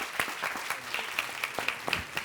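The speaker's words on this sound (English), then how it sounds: "A big round of applause" Sparse applause from a conference audience, a handful of distinct claps in an uneven rhythm, fairly close and without any voices.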